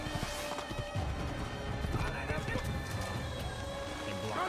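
Horse hooves clip-clopping and a whinny in the video game Assassin's Creed, set against busy in-game background noise with voices mixed in.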